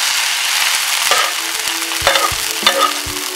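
Gallo pinto, rice and beans with a splash of juice, stirred in a pan: a spoon scrapes and knocks against the metal in a few distinct strokes over a soft, steady sizzle, close by with no voices.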